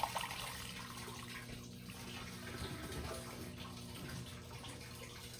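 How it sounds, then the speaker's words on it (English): A submerged pump in a 55-gallon fish tank churns and pushes water, producing a steady, quiet gurgling wash with no talking. "Just have a pump down there. It's just pushing water up and down."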